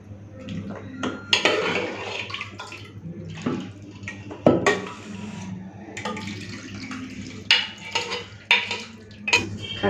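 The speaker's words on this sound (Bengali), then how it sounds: "তো বাটির মধ্যে এখন ঢেলে নিচ্ছি" Mutton curry with potatoes in a thin gravy being poured and scraped into a bowl, with irregular clinks of utensil on dish and wet sloshing, moderately close, over a low steady background hum.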